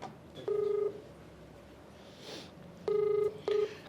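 A telephone keypad sounds three distinct DTMF tones, a longer beep followed later by two quick beeps, clear and close over a quiet background as a call is dialed.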